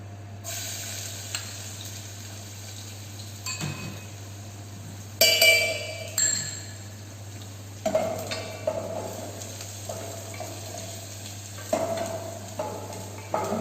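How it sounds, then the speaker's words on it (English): Garlic and whole red chilies sauté in hot oil in a large-batch kitchen pan for green hariyali gravy. A steady low hum sits beneath soft intermittent stirring scrapes and clinks, with a few louder utensil knocks partway through. "Saute garlic in golden brown color"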